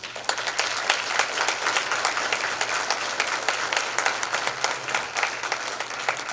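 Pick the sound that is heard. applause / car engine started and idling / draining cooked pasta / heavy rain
applause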